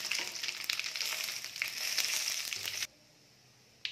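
Whole spices including cardamom and cinnamon crackle and sizzle loudly in hot oil for egg kulambu, with scattered pops, before the sound cuts off into near silence.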